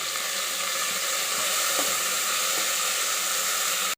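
Mint and spice mix for avarekalu pulao frying in a pan, a constant loud hiss of sizzling with a few soft clicks, cutting off abruptly at the end.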